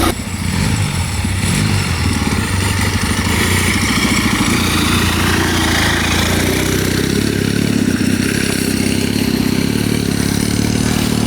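A turbocharged mini bike with a four-speed gearbox and a small generator engine runs steadily at close range, a constant loud buzzing drone with slight shifts in pitch and no speech over it.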